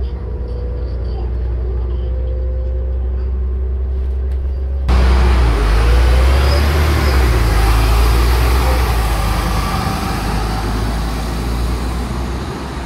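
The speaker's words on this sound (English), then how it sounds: "I got on board this Port Stephens Coaches Bus Tech XDI, which got me back to Mayfield" A Port Stephens Coaches Bus Tech XDI bus carries passengers, its engine droning low and steady inside the cabin, with road and rolling noise swelling partway through as the ride continues.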